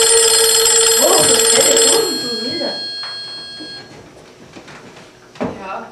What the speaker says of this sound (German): Oh, das Telefon, du wieder.